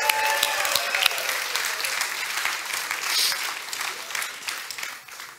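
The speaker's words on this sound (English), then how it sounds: "Give them a warm applause." Warm audience applause fills the room at a stage presentation, steady and dense for several seconds, then thins out toward the end.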